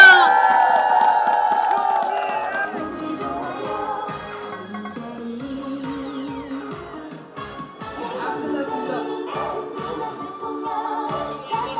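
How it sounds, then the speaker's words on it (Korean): A crowd at an outdoor political campaign rally in Korea cheers, whoops and claps, the noise rising in waves over amplified music and rhythmic chanting, loud and continuous. "추미애 당대표에게 다시 한번 힘찬 박수 부탁드리겠습니다."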